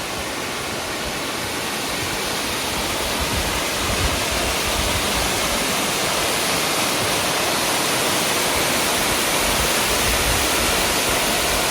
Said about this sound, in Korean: 많은 폭포입니다.